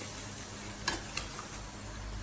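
Curry being stirred in a pan with mango pieces, a soft continuous sizzle with two brief scraping strokes of the spoon, close and moderately quiet.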